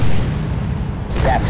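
An enemy vehicle explodes in the video game Modern Combat 3, a heavy boom at the start that trails into a low rumble, with a brief burst of higher debris noise near the end.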